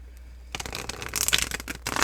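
Tarot cards are shuffled by hand: after a half-second pause comes a close, loud burst of rapid riffling and flicking crackle that runs to the end without any talk.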